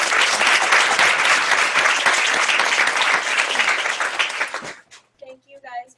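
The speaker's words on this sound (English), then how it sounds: "Let's give our panelists a round of applause." A panel audience at a fashion and beauty tech event applauds loudly and densely for several seconds, the clapping fading out near the end as a few voices begin to speak.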